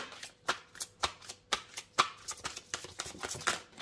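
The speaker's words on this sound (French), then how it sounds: "Je tire une carte simplement pour vous les Gémeaux." Tarot cards are shuffled by hand, giving a quick string of crisp riffling flicks and soft slaps. They sound close and moderately loud, with short pauses between bursts and no talk.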